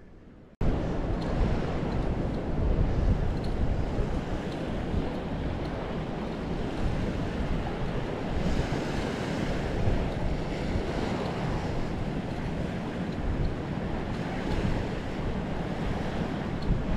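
Steady roar of surf washing onto a beach at Costambar, Puerto Plata, Dominican Republic, continuous and full, with wind buffeting the microphone throughout.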